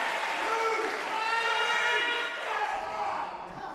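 A wrestling crowd cheering and applauding in an arena, a steady roar of voices and clapping swelling and dipping, with a commentator talking over it.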